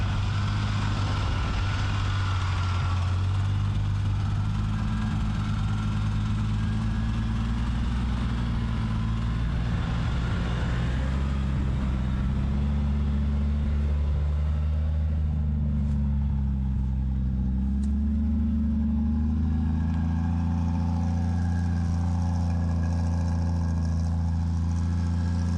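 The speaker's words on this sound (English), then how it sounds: "Well, Ronaldo's monster truck is back on the road." Ronaldo's restored monster truck, once abandoned, runs on the road with a deep, steady engine drone. Its low rumble shifts slowly as the truck drives and holds loud and continuous with no voices.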